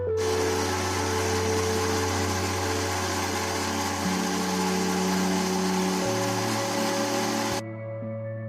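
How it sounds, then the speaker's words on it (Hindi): A mixer grinder grinding whole spices whirs loudly and steadily for several seconds, its motor pitch shifting slightly partway through before it cuts off abruptly. "मिक्सी जार में डाल के इसको ब्लेंड कर लूंगी"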